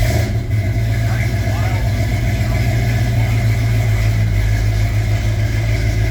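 A Ford F100 pickup's race motor runs steadily at a rough, loud idle with a deep low rumble, close by, while people talk over it.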